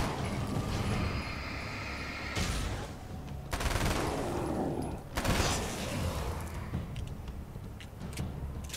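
Rapid gunfire from a weapon in Alan Wake's American Nightmare comes in loud, dense bursts separated by brief pauses, with mechanical clatter layered in between.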